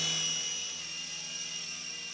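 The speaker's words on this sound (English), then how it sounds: "I'm gonna try to do my very best to keep the helicopter on camera so you guys can see it" Small Sky Rover Vigilante RC helicopter flies in sport speed mode, its high-pitched rotor and motor whine steady and close throughout.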